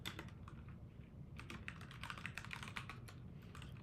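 Rapid, steady typing on a computer keyboard while editing a text file in a terminal editor, with quick clustered keystrokes heard close and fairly quiet, with no talking.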